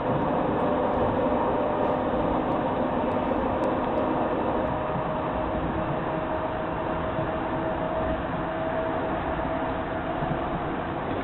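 A train or tram rumbles steadily in a constant, loud, even roar with no pauses, heard in news footage of a driver who fell asleep at the controls.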